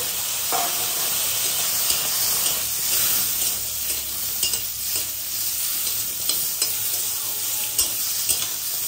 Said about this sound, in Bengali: এবার আমি হালকা নাড়িয়ে কিন্তু সবজিগুলো ছেড়ে দেবো